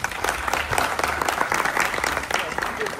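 Audience applause rings out in a continuous burst of dense clapping, steady and fairly loud across the short stretch, with a faint murmur of voices mixed underneath the claps.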